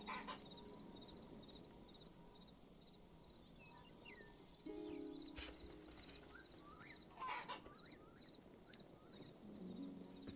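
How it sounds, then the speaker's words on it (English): Chickens cluck repeatedly in a farming video game, including a desert chicken, with soft layered clucks and bursts over a steady background bed; no one speaks. "What does the desert chicken want?"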